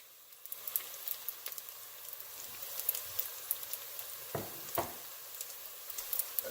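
Ginger and garlic frying with onions in oil: a faint, steady sizzle with scattered crackles and a few soft knocks of stirring, with no talking.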